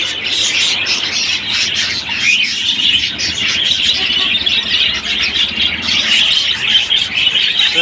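Budgerigars, lovebirds and Chinese pigeons in a crowded Dhaka bird shop chirp and squawk in a dense, continuous chorus of many birds, loud and close, with no clear talking.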